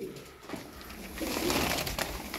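Tumbler pigeons, a mix of play birds including blue, smoky, grizzled and crested ones, coo softly in a loft, a low continuous murmur of several birds with no talk.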